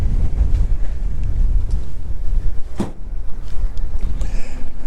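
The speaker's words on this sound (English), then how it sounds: "We're being confronted by strong winds in the face and getting chilled out so far." Strong, steady wind buffets the microphone at the cold lower spillway during a fishing outing, a loud continuous low roar with a brief gust surge near the middle and no talking.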